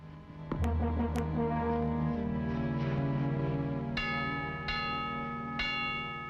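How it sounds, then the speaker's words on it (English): A town bell rings out as an alarm in 1962 Aspen, Colorado, its deep tolls sounding loud and close, the ringing strikes repeating and overlapping over a sustained, resonant hum with no voices. "The townspeople drop everything when they hear this bell."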